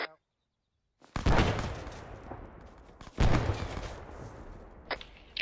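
Bursts of gunfire in the military shooter game ArmA III, two loud close volleys of rapid shots with decaying echoes, separated by a near-silent gap and followed by brief sharper cracks.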